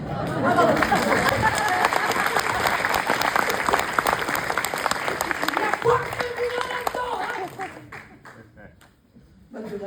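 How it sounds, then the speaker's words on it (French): Dense applause from a large audience following a choreographed dance routine, loud and sustained with crowd noise mixed in, tapering off near the end before a brief swell. "le monde entier applaudit sur cette chorégraphie"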